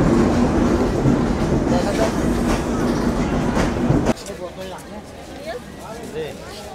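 A passenger train at a station in Jashore rumbles and clatters loudly, then the heavy noise drops away to quieter station bustle with voices talking in the background.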